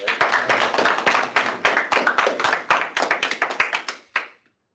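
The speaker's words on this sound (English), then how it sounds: "Let's go to give her a round of applause" A small student senate assembly claps for a senator. Individual hand claps stay distinct and close in an uneven, lively patter for about four seconds, then thin out and stop after one last clap.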